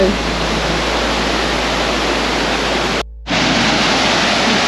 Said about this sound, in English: How's this for a waterfall, babe?